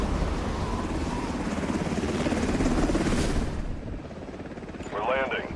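In the video game Delta Force, a helicopter comes in to land with a loud, continuous rotor chop and engine roar that eases slightly near the end, while a voice speaks over it.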